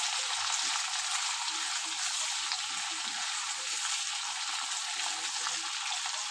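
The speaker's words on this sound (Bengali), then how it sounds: "চলো এবার আমি কড়াতে তেল দিয়ে মাছটা ভেজে নিই" Loitta dried fish frying in hot oil in a wok, a steady bright sizzle that holds evenly throughout with faint occasional stirring underneath.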